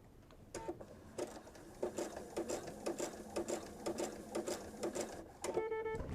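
A sewing machine runs in repeated short bursts of stitching through fabric for a quilted kitchen set, each run a quick rhythmic clatter, close and moderately loud, with brief pauses between and no talking.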